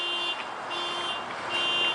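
A car alarm sounds out in town at night, steady repeating electronic beeps in even pulses, moderately distant over a low background hum with no talking.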